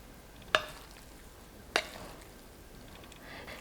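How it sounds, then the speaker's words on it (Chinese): Steamed rice with eggs and vegetables stirred in a pot, two brief scraping clinks of a spoon against the pot a second apart over a faint steady background hiss, no talking. "下面我们给它搅动一下"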